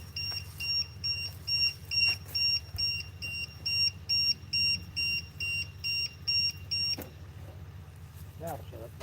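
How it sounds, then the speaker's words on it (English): A beeper on an RC car battery voltage checker sounds a rapid run of loud, evenly pulsed high beeps for about seven seconds, then stops. A low engine-like hum runs underneath throughout. "I think this beeper is like shot."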